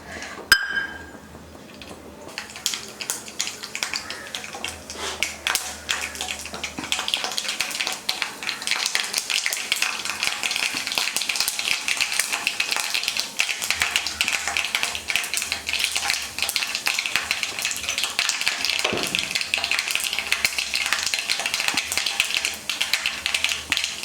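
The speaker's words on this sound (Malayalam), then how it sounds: "കടുക് പൊട്ടി കഴിഞ്ഞ്" Mustard seeds popping in hot coconut oil for a Kerala curry, a dense continuous crackle of rapid sharp pops and sizzling that holds steady for a long stretch.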